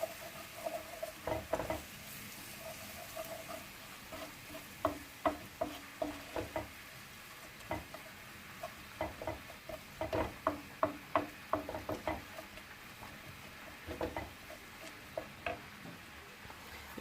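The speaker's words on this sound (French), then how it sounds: "Je mélange le tout ensemble." Turmeric, paprika and minced meat are stirred in a pot for a tajine, giving soft irregular scraping and patting strokes in bursts with brief pauses, fairly quiet and close.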